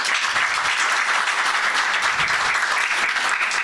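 An audience at a Dar Al Maghrib conference in Morocco applauds the two representatives, Souad El-Mallem and Émile Fassi, with dense, even clapping that stays loud and continuous throughout.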